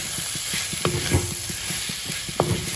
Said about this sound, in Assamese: এতিয়া আকৌ অকণমান সময় ভাজিব লাগিব